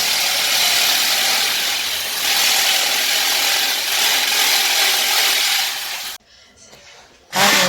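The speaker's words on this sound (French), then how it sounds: "Ils vont percer pour fixer." A power drill bores through a board to fix it to a wall while a partition wall is built indoors. It gives a close, steady whirring grind for about six seconds, stops briefly, then starts again.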